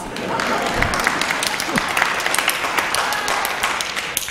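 A church congregation claps steadily for news of an associate rector being called, a broad wash of many hands at moderate distance with scattered sharper claps throughout.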